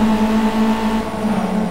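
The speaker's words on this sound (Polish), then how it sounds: "Mam bardzo agresywnie ustawiony samochód." An aggressively tuned racing car engine in the video game Project Cars holds a steady, fairly loud tonal whine, with no voices over it.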